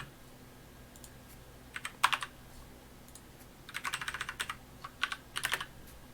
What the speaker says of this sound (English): I didn't realize I was typing it there.